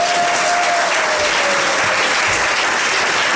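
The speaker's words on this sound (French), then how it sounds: "Applaudissons le Seigneur." Wedding guests at an official ceremony break into loud, sustained applause from many hands, a dense continuous roar of clapping with a faint tonal hum running beneath.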